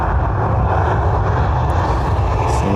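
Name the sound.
airliner taking off from Dublin Airport runway 10R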